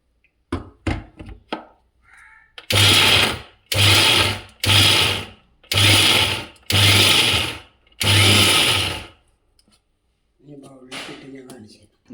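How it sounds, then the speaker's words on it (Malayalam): A kitchen mixer grinder pulsing shallots, small mangoes, chilli and salt: six short loud whirring bursts with brief pauses between them, framed by a few knocks and a voice before and after. "ഇനി ഇതിനെ പൾസ് ചെയ്തെടുക്കുക അരയ്ക്കൊന്നും വേണ്ട പൾസ് ചെയ്തുകൊണ്ട് ഉള്ളൂ"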